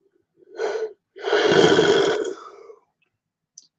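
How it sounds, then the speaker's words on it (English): A single drawn-out yawn voiced close to the mic, a short breathy onset, a brief pause, then a long groaning exhale trailing off, in an otherwise quiet room. "Big yawn, sorry."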